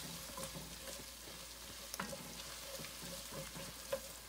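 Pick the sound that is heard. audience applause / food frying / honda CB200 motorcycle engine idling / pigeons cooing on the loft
food frying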